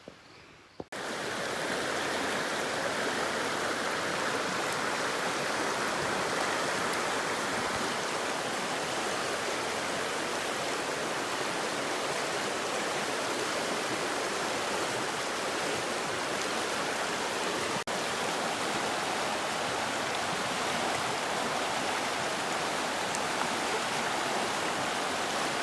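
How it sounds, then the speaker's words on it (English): A brook flows steadily behind a homestead, making a continuous broad rushing wash that stays loud and unchanging for about 25 seconds after a brief quiet start, with no voices. "This is the brook behind"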